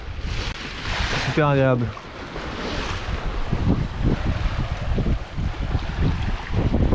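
Wind rushes over a sailing boat crossing the Atlantic at more than five knots, a steady blustery roar with water sloshing along the hull, and a voice speaks briefly near the start.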